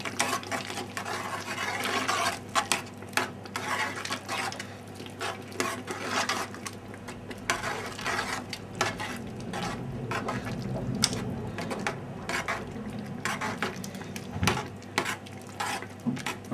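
A spoon stirs chopped parsley into a simmering Provençal sauce in a pan, with soft continuous scraping and a gentle sizzle at close range, no voices.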